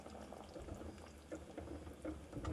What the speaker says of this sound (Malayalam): അരപ്പൊക്കെ കുറുകി ഒന്ന് സെറ്റാവുന്നത് വരെ തിളപ്പിച്ചെടുക്കാം.